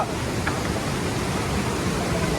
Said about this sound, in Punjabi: ਪਾਣੀ ਦਾ ਵਹਾਅ ਬਹੁਤ ਤੇਜ਼ ਆ